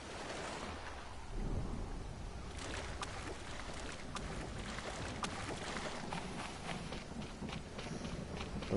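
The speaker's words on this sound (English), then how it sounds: "Our first rain." Thunderstorm with steady rain in the survival game Stranded Deep, out on the ocean: a continuous hiss of rainfall with a low rumble of thunder swelling early on, moderately loud throughout with no talking.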